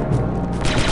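Blaster gunfire in the Star Wars Republic Commando video game, a dense, continuous burst of shots with low booming weight filling the whole second, loud and close with no talk.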